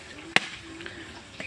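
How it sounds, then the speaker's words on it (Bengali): A coconut being cracked open by hand gives one sharp, crisp knock, followed later by a softer tap, against a quiet indoor background. "অনেক কষ্ট হয়েছে নারকেল ভাঙতে।"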